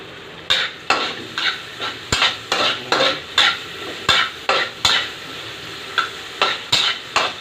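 Sausage pieces for spaghetti frying in a pan and stirred, a steady sizzle broken by regular scraping strokes and sharp utensil clinks against the pan, close and fairly loud with no talking.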